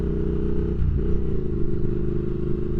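A 2022 Triumph Speed Twin motorcycle with a rebuilt engine idles steadily up close, its deep even rumble rising briefly in a small blip of throttle before settling back.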